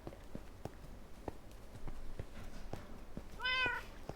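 A Minecraft cat gives a single clear meow near the end, over a background of soft, regular footstep-like taps and low game ambience.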